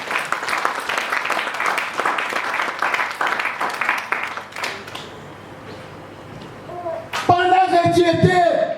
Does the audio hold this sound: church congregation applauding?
yes